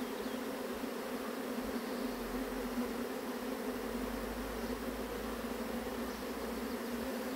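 A captured swarm of honeybees buzzes inside a box, a steady, dense hum of many wings that continues evenly and fairly softly with no talking.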